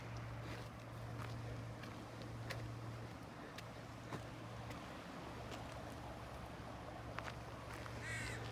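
A crow caws a few times in an open coastal park by the bay, the calls fairly distant over a constant background hum and faint ambient noise.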